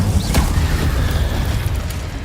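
Incendio, the fire spell in Hogwarts Legacy, booms through a dense, rumbling game soundscape, with a short sharp burst early on and a continuous low roar after it.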